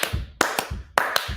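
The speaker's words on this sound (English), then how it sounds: "Come on, let's clap." Hand clapping from a lively church-style gathering: a few sharp, close claps in an uneven rhythm, standing alone with no talking over them.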